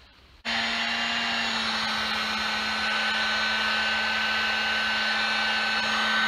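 A heat gun switches on abruptly and then blows with a steady, loud whirring hiss and a constant motor hum as it warms a plastic tongue protector on a wagon.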